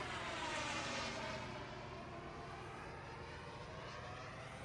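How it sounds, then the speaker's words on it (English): An OMP Hobby M4 Max RC helicopter flies with a low head speed at a Joe Nall 2024 flying field, its rotor and motor making a continuous steady whir with a slight wavering drone, no talk. "So really low head speed, and it's a really nice helicopter."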